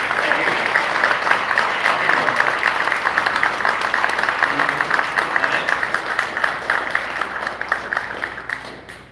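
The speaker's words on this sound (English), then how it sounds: "Round of applause for Davey and Alex." An audience at the Cypherpunk 2023 conference applauds with dense, steady clapping that fills the room, holding strong for several seconds before fading toward the end.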